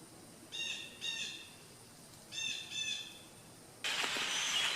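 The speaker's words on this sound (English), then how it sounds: "I had a flock of birds come in and roost in the trees above me." Flock of birds roosting in trees overhead, giving two pairs of short, bright chirping calls at a distance, followed by a louder burst of rushing, hissing noise near the end.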